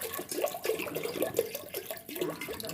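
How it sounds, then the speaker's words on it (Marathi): Water pours steadily into a pressure cooker sitting on a gas stove for cooking dal, a close, continuous gurgling splash with no speech. "आता मी पाणी टाकते"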